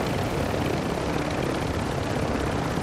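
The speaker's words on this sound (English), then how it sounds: "The helicopter?" A helicopter in a video game roars as a dense, continuous rotor and engine wash at steady, loud volume, filling the whole clip with no other sounds standing out.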